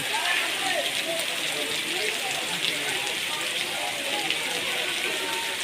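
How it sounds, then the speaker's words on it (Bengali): Rain falls steadily in a dense, even hiss, pattering on surfaces close by at a sports academy practice, constant throughout with no pauses. "হ্যাঁ বৃষ্টি হচ্ছে"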